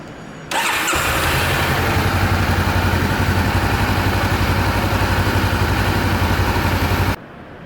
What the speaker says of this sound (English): the first step is to actually run the engine for 3 to 5 minutes